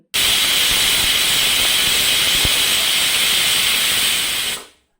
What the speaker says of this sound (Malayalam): ഇപ്പോൾ സാമ്പാറിൻ്റെ വിസിലൊക്കെ വന്ന് കഷ്ണങ്ങളൊക്കെ വെന്തിട്ടുണ്ട്